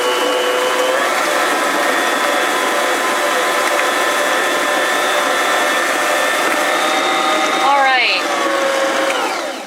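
A stand mixer creams butter and sugar for retro lunchbox cookie dough, its motor whirring in a loud, steady drone for nearly ten seconds with a short pitch wobble near the end.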